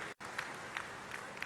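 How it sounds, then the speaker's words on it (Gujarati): An audience at a public event about recharge wells and water conservation in Banaskantha applauds. The clapping is a fairly faint, steady crowd patter with a brief dropout near the start and a few sharper claps standing out. "એમના માટે જબરજસ્ત તાળીઓથી એમનું સ્વાગત કરીએ."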